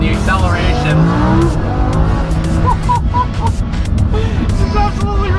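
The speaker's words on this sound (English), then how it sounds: "Those downshifts and the steering response, oh my god, and the acceleration." A Lamborghini Huracan accelerating hard and downshifting, its loud engine note rising and falling through the gears with sharp blips and a brief tire squeal, close and powerful the whole time.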